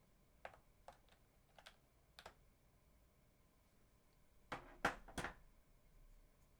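Close, quiet clicks of a computer keyboard being typed on, a few scattered keystrokes followed by a quick cluster of louder taps, with near silence between them.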